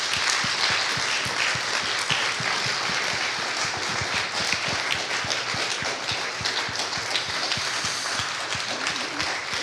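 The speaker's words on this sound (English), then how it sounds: "let's just give them a hand clap a little bit" A church congregation gives a sustained round of applause in thanks for years of ministry service, dense steady clapping filling the room at an even level throughout.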